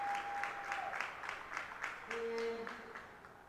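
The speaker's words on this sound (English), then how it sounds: "Please give them a round of applause." A crowd in a high school gym applauds during a senior night basketball event, a continuous wash of clapping with a few sharp whistles cutting through, fairly distant and steady.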